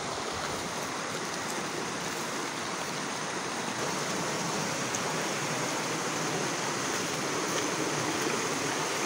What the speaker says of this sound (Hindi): क्योंकि यहाँ पे नदी है